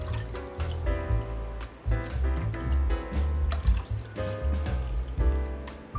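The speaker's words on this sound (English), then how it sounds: "get a separate bowl and measure about 2 cups of chicken broth" Chicken broth poured into a separate measuring bowl in a home kitchen, a steady close liquid pour with gurgling and trickling that runs for several seconds.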